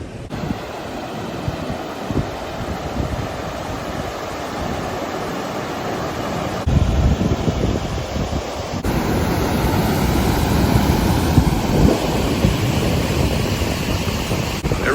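Rushing water from several waterfalls in a Glen Etive glen in Scotland, a steady broadband roar with gusting wind buffeting the microphone, growing louder partway through.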